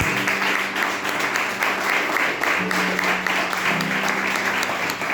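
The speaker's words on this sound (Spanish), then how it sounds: "Denle un aplauso al Rey, por favor." A church congregation applauds steadily throughout, a dense, even wash of many hands clapping with a low sustained musical tone running underneath.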